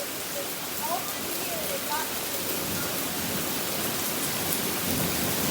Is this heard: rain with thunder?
yes